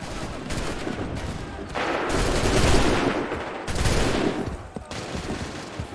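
Musket volleys from a line of soldiers in the Assassin's Creed III video game, several heavy crackling bursts of massed gunfire rolling one after another over battlefield noise.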